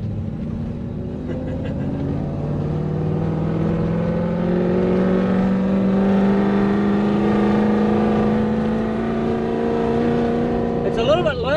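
A Toyota 1UZ V8 engine in a Surf/4Runner revving and holding high with a loud, droning exhaust, rising and sustained for several seconds, close by.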